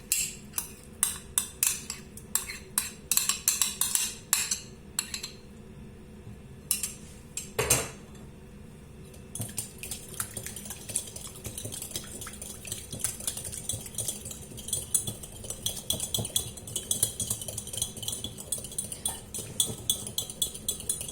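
Utensils clink and scrape in a bowl as mayonnaise is mixed into coleslaw, with rapid bursts of metallic tapping early on and then a steadier stirring scrape, close and fairly quiet.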